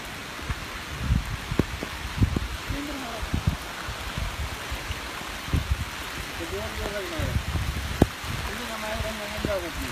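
Heavy rain hisses steadily on the Madikeri–Sullia road, a constant close wash of falling water with scattered thuds and drips, while voices murmur faintly underneath.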